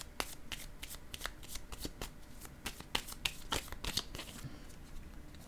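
Tarot cards are shuffled by hand in a quiet room: a run of soft, quick riffling and flicking clicks, close and fairly faint, with no talking.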